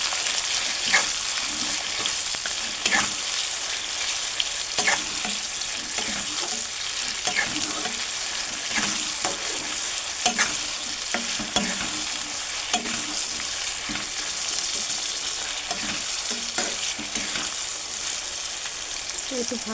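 Ginger garlic paste frying in a pan, a dense continuous sizzle with repeated soft scraping strokes as it is stirred throughout.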